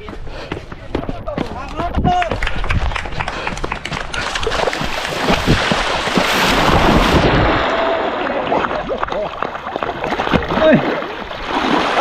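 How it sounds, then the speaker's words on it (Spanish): Splashing water as a runner jumps into the sea during the Ibiza Trail Marathon 2022, a continuous churning splash close by, with voices talking over it throughout. "Sí, me voy a tirar al agua."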